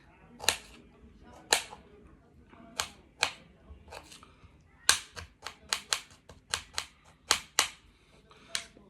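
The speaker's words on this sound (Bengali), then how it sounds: "আমি স্ট্রবেরিটা একটু সাইজ করে কেটে নিই" A knife chops strawberries into pieces on a board, giving a run of sharp, separate taps that come slowly at first and then quicken, with faint background talk between cuts.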